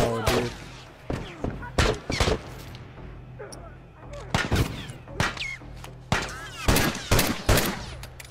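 Gunfire during a firefight in The Last of Us video game, with rapid, irregular bursts of sharp shots, some close and loud, others quicker and lighter, scattered over several seconds above a low rumbling backdrop.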